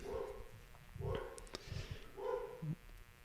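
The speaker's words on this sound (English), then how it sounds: "the dog barking on the podcast" A dog barks in short bursts of two or three muffled woofs, moderately close and not very loud, spaced across a few seconds with a quiet background between them.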